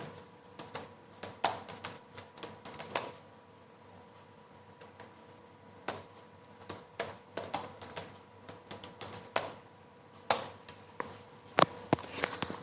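Keystrokes on a computer keyboard as a search is typed into Google, coming in irregular bursts of clicks with pauses between them, close up over a quiet room hum.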